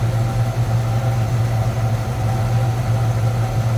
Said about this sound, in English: It's off high idle, so there's your low idle.